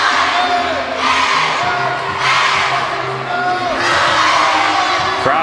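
A home crowd at a UCLA women's volleyball match against Oregon State roars and cheers to rally the Bruins at set point, in rising and falling waves of shouts and whoops that fill the arena.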